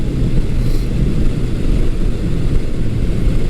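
Yamaha XS1100 motorcycle engine on a test ride, a loud steady low roar with wind rush as the bike pulls smoothly under power, no voices.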